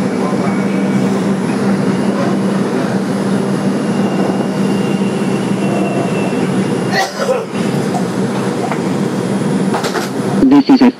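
2001 Bombardier #6676 on the 2 local along the IRT White Plains Road line, heard from inside as a loud steady rumble and hum of the moving subway car, with brief clanks and rattles near the end.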